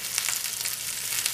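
Pot roast meat browning in a pot, a dense, steady sizzle and crackle of frying close up with no talking.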